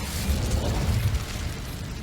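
Incendio fire spell cast in Hogwarts Legacy, a dense, roaring, crackling burst of flame that stays loud and even for two seconds with no voices.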